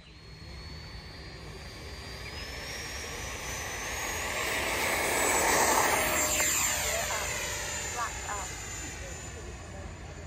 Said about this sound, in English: FMS, F-18, Top Gun. Taking off, right to left.